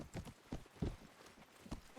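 Horse hooves clip-clopping in the Mount & Blade game modded to resemble Daggerfall, a faint uneven patter of several beats amid quiet background.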